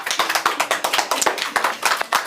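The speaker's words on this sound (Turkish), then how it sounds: "Yani bir bir alkışlıyoruz." Children's group clapping in unison on a Ramadan kids' quiz show, a steady run of sharp, close hand claps at an even brisk rhythm with no talking.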